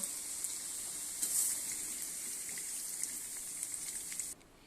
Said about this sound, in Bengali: দেখো বন্ধুরা এখানে আলুটা ভাজা হয়ে গেছে এখন তুলে নেব